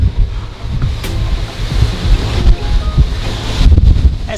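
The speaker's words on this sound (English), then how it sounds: "That's actually that's the ocean." Ocean waves and wind heard from the balcony of a Carnival Celebration cruise ship cabin off Miami: a steady broadband wash with low rumbling surges and wind buffeting the microphone, no talking.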